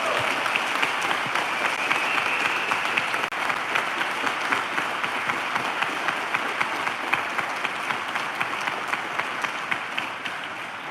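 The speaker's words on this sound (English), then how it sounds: "Let's have one big round of applause for all of our new captains." Sustained applause from a large audience at a firefighter-style captains' promotion ceremony, a dense steady wash of many clapping hands lasting the whole stretch without fading.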